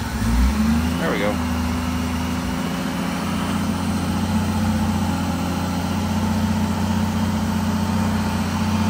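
A 1999 50th Anniversary Honda Gold Wing GL1500 motorcycle cranks briefly with a rising whine, then its engine settles into a smooth, steady, quiet idle that runs on evenly, close by with no speech over it.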